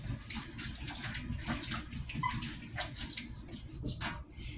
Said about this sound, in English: Now I like to use filtered water.